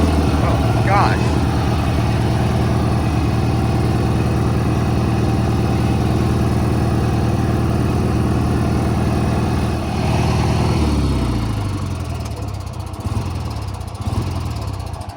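Small engine of a cheap riding lawn mower idles steadily and loudly for the whole stretch, a rough low drone that wavers and shifts toward the end, with no talking.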